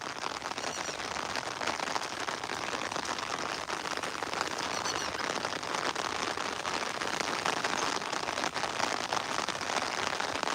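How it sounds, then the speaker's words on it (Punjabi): Rain falling steadily on an open farm field, a dense, even hiss of drops that keeps a constant level the whole time, with no talk. "ਇਹ ਕਹਿੰਦਾ ਮੀਂਹ ਪੈ ਰਿਹਾ"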